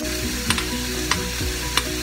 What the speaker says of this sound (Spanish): Dejamos el fuego alto para que la cebolla y la verdura se tuesten